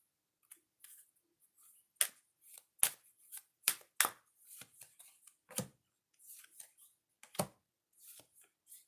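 Oracle cards are handled and shuffled: a quiet, irregular run of papery flicks, riffles and taps, a few of them sharper and louder, with no talking.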